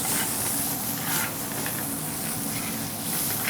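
Finely diced onion, about one medium-sized, sizzling in a heavy, well-heated pan with mustard seeds: a steady, close hiss and crackle of frying that holds even throughout, with no talk.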